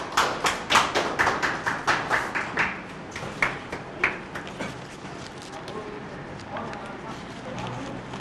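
An audience claps in welcome for a speaker at a religious debate on Islam and Christianity, with sharp, rhythmic claps that start loud and close, then thin out and fade to scattered faint claps.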